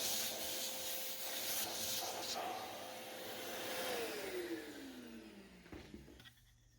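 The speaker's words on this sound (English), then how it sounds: "I went ahead and sanded the entire piece to a 400 grit finish" Mahogany wood being power-sanded to a 400 grit finish for a hexagon dice tray, a steady close abrasive whir with a motor tone that drops in pitch as the sander winds down near the end.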